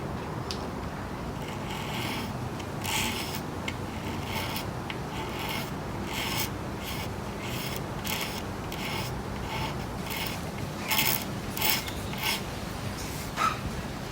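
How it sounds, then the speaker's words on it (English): A razor blade gently scrapes the cabinet of a 1930s Lotus radio, giving repeated short rasping strokes in an uneven rhythm that are close and moderately loud. "I might try gently scraping that with a razor blade and see what's underneath"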